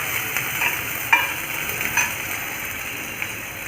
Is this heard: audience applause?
no